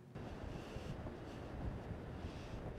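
Strong wind roars across the ice-shoved shoreline of Lake Winnebago, a constant low rumbling buffet buzzing against the microphone without a break.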